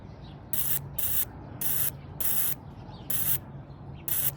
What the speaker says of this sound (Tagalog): ang ganyan ang spray ng mga injector ng mga automotive niya